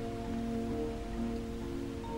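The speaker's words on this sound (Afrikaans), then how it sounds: "Dit het vroegdag al begin reën" Heavy rain pours steadily in the Afrikaans-dubbed Moomin cartoon, a dense, constant wash of noise with faint tonal hum underneath and no talk.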